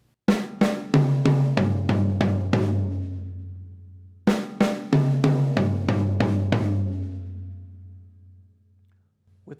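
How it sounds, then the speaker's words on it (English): Drum fill played twice on a kit: two snare hits, two mounted tom hits, then four floor tom hits, each run a quick descending burst ringing out into a low decaying boom, alone with no talk. "we're going to play 2 notes on the snare drum, 2 notes on the mounted tom, and 4 notes on the floor tom"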